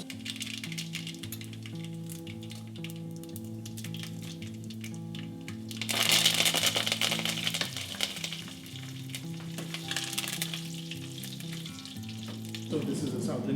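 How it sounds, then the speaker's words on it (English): Mustard seeds, cumin seeds, red chili and curry leaves fry in hot oil for a South Indian shrimp biryani, giving a steady close sizzle that surges louder and crackly midway, with soft music running underneath. "Okay, oil hot, spices go in"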